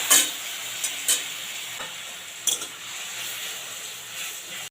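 A paste of ground poppy seed and mustard fries in oil with turmeric-spiced tempering, a soft continuous sizzle and hiss broken by several brief scrapes of stirring.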